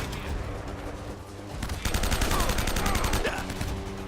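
Rapid gunfire from the Uncharted video game, dense bursts of shots that grow louder and more continuous in the second half, with a voice talking underneath.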